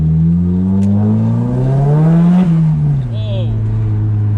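A modified Nissan S15 accelerating under boost, its engine note climbing steadily in pitch, then dropping as revs fall at a shift before rising again, loud and close, with a brief turbo whistle near the end.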